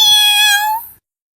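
A single clear, close cat meow, drawn out for about a second and then falling silent.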